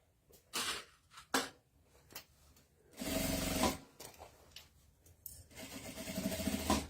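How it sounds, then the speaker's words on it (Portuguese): A sewing machine stitches around the opening of a messenger bag, its motor whirring in short bursts and then a longer steady run after quiet pauses and a few soft handling knocks. "nós vamos passar a costura com um pé de máquina em toda a volta aqui dessa boca da bolsa"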